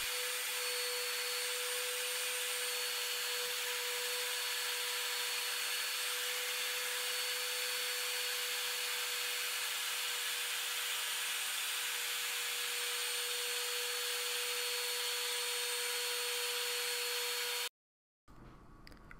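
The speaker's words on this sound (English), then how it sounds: "Using the jig as a larger base for the router, I then made my way around the centre" A wood router working around the centre of a circular wooden bowl, mounted on a wide jig base, gives a steady, loud, high-pitched whine with a constant tone that runs unbroken for about seventeen seconds, then stops abruptly.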